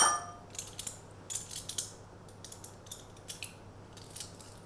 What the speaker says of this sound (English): Crush under the side of your knife and then peel off the skin.